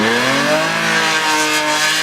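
At a drift competition, a drift car enters a corner with a loud, close engine whose rising revs hold and climb steadily, with a rough edge of tire noise.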